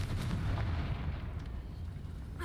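The Confringo explosion spell goes off in Hogwarts Legacy, a deep rumbling blast with a low boom that decays over a couple of seconds, fairly loud.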